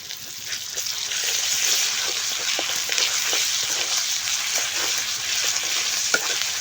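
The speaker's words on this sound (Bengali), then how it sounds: "পেঁয়াজটা আমি ভেজে নিচ্ছি, একে একে সব মশলা দিয়ে দিব" Onion sizzling and frying in a pan with ginger, cumin and garlic pastes, a steady bright crackle with occasional stirring clicks, close and continuous throughout.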